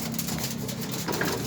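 Pet pigeons cooing nearby in a short burst, soft low throaty coos mixed with light ambient noise and a faint voice in the background.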